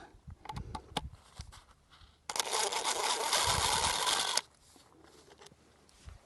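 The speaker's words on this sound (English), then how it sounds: "we got to take those screws out" A power drill or driver backs screws out of a board on a DIY chicken house, a few short clicks and taps then a two-second whirring run, fairly close and alone.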